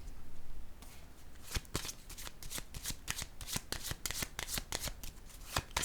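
A deck of tarot cards is shuffled by hand, a fast run of crisp riffling flicks and slaps close to the mic, with a card set down among them and no talk.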